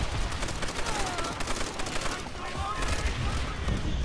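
Browning machine gun firing in Call of Duty: World at War, a steady dense burst of rapid shots running throughout at a constant loud level, with battle noise underneath.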